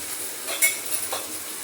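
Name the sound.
sautéing onion in a pan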